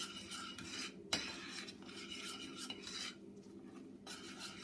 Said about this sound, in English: What I want to do is to just mix that in first.